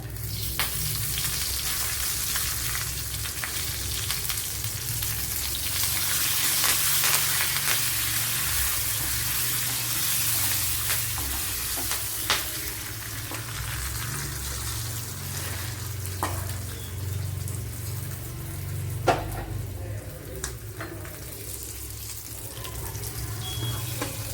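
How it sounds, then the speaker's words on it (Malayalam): Mustard seeds, shallots and dried chilli fry in coconut oil for a Kerala egg curry, a steady close sizzle with scattered pops and crackles throughout. "ഇവിടെ വൺ ടേബിൾ സ്പൂൺ വെളിച്ചെണ്ണ ഒഴിച്ചു കൊടുത്തിട്ടുണ്ട് അതിലേക്ക് കടുക് ഇട്ട് കൊടുത്തിട്ടുണ്ട്"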